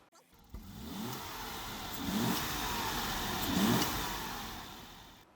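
Jaguar 5.3 litre V12 in a Daimler Double Six saloon running nearby, a quiet steady engine note that swells and blips twice in revs, with no speech over it.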